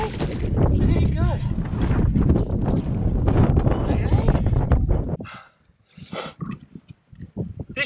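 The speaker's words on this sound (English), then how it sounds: "Sorry it's so windy" Strong wind on a coastal mud flat buffets the microphone with loud, rumbling gusts for about five seconds, then drops away as scattered voices and rustling follow.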